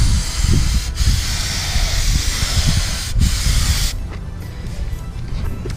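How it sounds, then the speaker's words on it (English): Spray gun laying a solid base coat onto a Foxbody car bumper in a driveway, a close, steady hiss in long bursts with brief breaks between passes. "you can get away with pretty much spraying this any way you want to"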